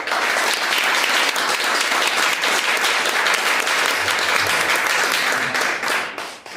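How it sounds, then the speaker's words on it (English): A conference audience applauds after a panel discussion on the persecution of religious minorities in Brussels, with dense, even clapping that holds steady for several seconds and then fades out at the end. "I think we allow them a random applause from the audience."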